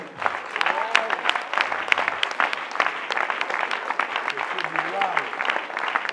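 A large congregation at a Congolese prayer gathering in a Brazzaville congress hall breaks into sustained, dense applause that runs evenly throughout, with voices and cheers mixed into the clapping.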